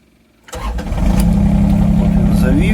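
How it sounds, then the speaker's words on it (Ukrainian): A mini excavator's diesel engine cranks and fires up after a half-second of quiet, then settles into a loud, steady rumbling idle close by, with no talk over it. "А по ескаватору зараз трошки так от заводимо його"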